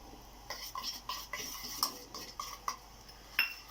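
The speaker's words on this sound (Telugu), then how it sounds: "ఒకసారి మళ్ళీ కలుపుకుందామండి" A spoon stirs a homemade natural soap mixture just after beetroot juice has been added, clinking against the bowl in a steady series of light scraping and tapping strokes, close and fairly quiet.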